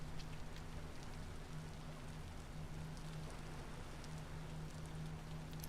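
Steady rain pours in the modded video game Vintage Story, a continuous, even hiss of drops with a low hum underneath. No one speaks.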